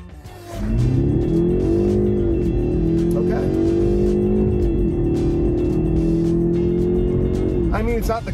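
A 2024 BMW 530i xDrive's engine drones steadily and loudly on back roads in South Carolina, rising in pitch as it accelerates, with a brief chirp of tires near the end.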